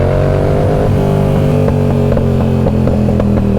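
A Honda Grom motorcycle engine runs loud and steady, with a sustained buzzing drone and small rev fluctuations throughout.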